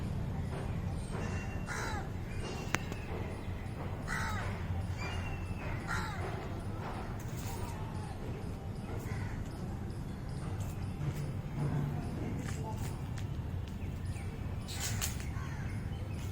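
Crows caw repeatedly outdoors over a steady background of ambient noise, with scattered other bird calls and no talking.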